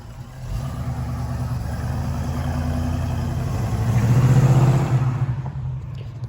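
Ford Mustang Mach 1 V8 engine rumbling and revving, a low throaty drone that swells louder around four seconds before easing off, with no talking.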